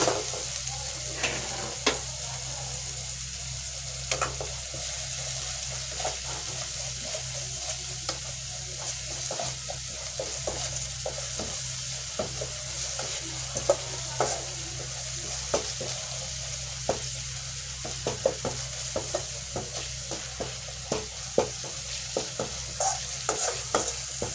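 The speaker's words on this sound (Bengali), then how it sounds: "আর মশলাটা ভালো করে কষিয়ে নিই আগে।" Spice paste (masala) for a chitol fish curry fries in a pan, a constant soft sizzle broken by repeated scraping strokes of a spatula, close up and without speech.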